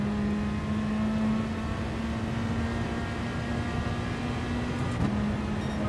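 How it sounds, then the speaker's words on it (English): A race car in GT Sport drives in second gear, its engine droning steadily at high revs before a quick upshift into third near the end, with a continuous loud, close engine tone throughout. "putting the power down in second and then quick upshift into third"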